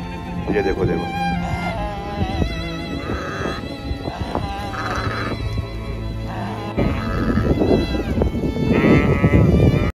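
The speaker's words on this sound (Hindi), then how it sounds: "ये भेड़ा है। पहले तो मैं समझा कि ये बकरियां हैं, लेकिन ये बकरियां नहीं है" A large flock of sheep in the Saudi desert, around 400 sheep and goats herded by a single man, bleats loudly and almost without pause, many overlapping calls close by, with a voice speaking at times.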